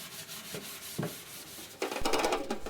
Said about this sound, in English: you want to take an SOS pad or a Brillo pad and scrub off the remaining sticky stuff